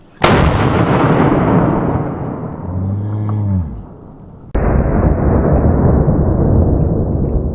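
A Bond Arms Cyclops single-shot pistol chambered in 45-70 fires one very loud, close blast outdoors, with a long rumbling tail. A second sharp, loud boom follows a few seconds later and sustains to the end.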